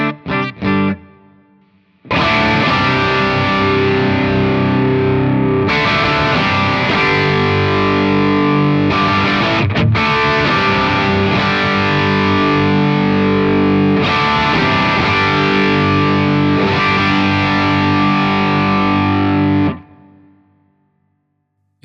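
Electric guitar driven through a Protein v4 overdrive pedal with its low-cut dip switch down, a short pick at the start, then a sustained, gritty strummed passage of about eighteen seconds that stops abruptly, played alone with no voices.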